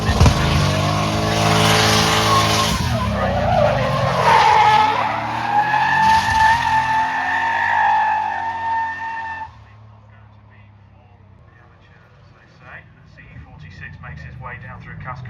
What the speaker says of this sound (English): Beautiful little drift there.